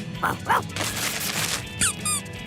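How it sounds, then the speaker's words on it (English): A cartoon squeaky toy, given as a birthday present, lets out a few short, bright squeaks in quick succession, with a dog-like yelp and light background music underneath. "It's a squeaky toy."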